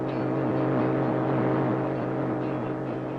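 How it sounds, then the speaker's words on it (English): Cold War Soviet radio jamming over a Radio Free Europe broadcast: a loud, continuous droning buzz with a warbling, pulsing tonal texture, steady throughout with no speech. "It is the sound of jamming."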